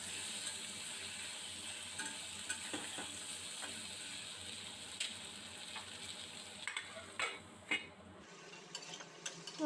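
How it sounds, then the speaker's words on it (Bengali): Potatoes fry in a kadai with five-spice seeds, onion, green chilli and tomato, a soft, distant-sounding sizzle with occasional light clinks and scrapes of stirring that grow sharper and more frequent near the end. "কড়াতে ওই 5 ফোড়ন, পেঁয়াজ, কাঁচা লঙ্কা, টমেটো এইগুলো দিয়ে কষে আলুটা তুলে দেব।"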